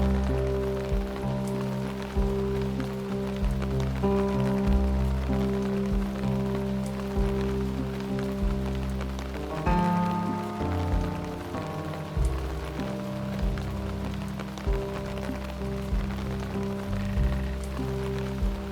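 Rain falls steadily in the video game The Doll Beneath, a continuous patter layered over sustained low droning music tones, with no speech.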